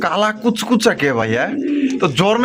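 Pigeons, including large black ones kept at a pigeon market, coo in soft throaty bursts close by, mixed with a person talking over them.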